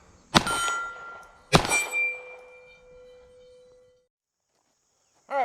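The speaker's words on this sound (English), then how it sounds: "We're going to shoot that steel at 25 yards again" Two CCI Blazer rounds fire at a steel target 25 yards away, each loud gunshot followed by a ringing metallic clang that fades slowly, with the start of another sharp sound at the very end.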